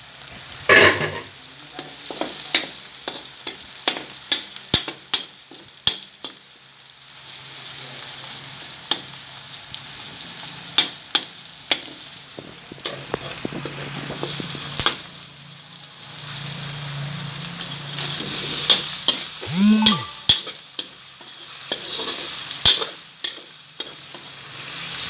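Onion and ginger sautéing in a hot pan for adobong labong with pickled bamboo shoot, a steady close sizzle broken by repeated scraping stirs of a spatula, with no voices over it.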